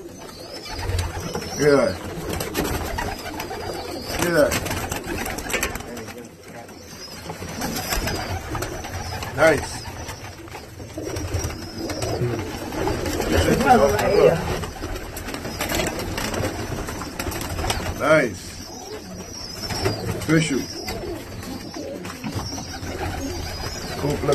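Flying Tippler pigeons coo in a rooftop coop in New York City, low murmuring calls repeating throughout at close range, while someone talks intermittently over them.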